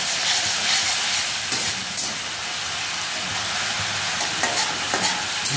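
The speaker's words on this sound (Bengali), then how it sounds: "দিয়ে নাড়াচাড়া করে নেব একটু।" A spice masala with cumin powder fries and is stirred for a Bengali egg curry, producing a continuous loud sizzle and hiss close up with occasional light scrapes of the spatula. No one talks.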